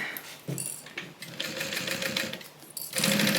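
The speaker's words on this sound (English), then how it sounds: "we're sewing this at a 1/4 inch seam allowance" A sewing machine stitches a fabric Bible cover at a quarter-inch seam, its busy whirring running steadily throughout, with short pauses and a louder burst toward the end.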